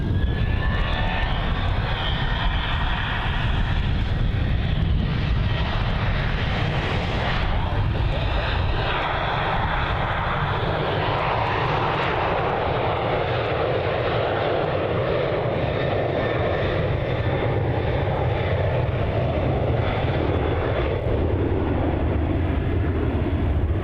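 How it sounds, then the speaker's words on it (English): A Virgin Australia Boeing 737-800 departs Melbourne Airport, its engines building into a powerful roar that swells and then slowly fades, with voices faintly underneath. "Cairns bound for that 737-800 of Virgin Australia."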